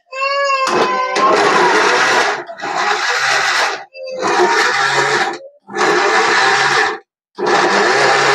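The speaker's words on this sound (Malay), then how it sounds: "kita blender bawang putih dengan bawang merah tadi dengan serai tadi" A loud blender whirs in several bursts, blending garlic, shallots and lemongrass, starting and stopping with short pauses between each pulse.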